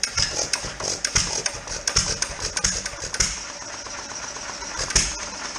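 1929 John Deere 1.5 hp Type E hit-and-miss engine starting, a close, loud series of rhythmic mechanical firing thumps and clattering knocks with a persistent bright metallic ring, settling slightly toward the end.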